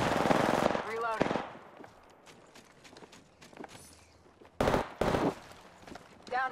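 Automatic weapon fire in Apex Legends rings out in loud bursts at the start and again near the end, with quieter footsteps and game activity in between.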